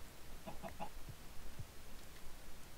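Chickens in Minecraft give a few soft, quick clucks early on, then fall quiet over a steady low background hum.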